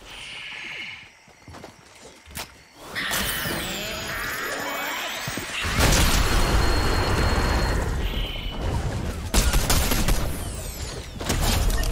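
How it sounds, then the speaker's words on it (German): Sharp, loud gunshots and bursts in the video game Fortnite ring out in quick, uneven volleys, with heavy crashing noise swelling through the middle and end. "Aus der Richtung sind jedenfalls Schüsse zu hören."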